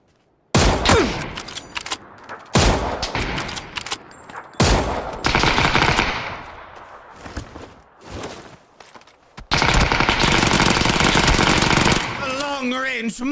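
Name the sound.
micro UZI gunfire in the video game PUBG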